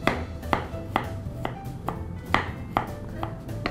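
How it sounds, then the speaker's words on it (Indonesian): A knife chops garlic on a cutting board, about eight sharp, evenly spaced strikes ringing out close and clear against a quiet background, with no talking. "Ini bawangnya saya cincang dulu."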